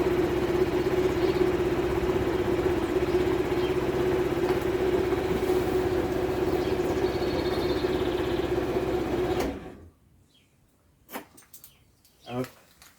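Steady engine idle with a constant hum runs for about nine seconds, then cuts off, leaving near silence broken by a few faint chirps and small knocks.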